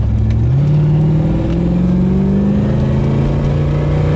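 A 1988 Chevrolet Corvette C4 with a 350 V8, reluctant to rev past about 4,000–4,500 RPM, roars loudly up close, its engine note climbing and then holding at a strained high pitch without further rise.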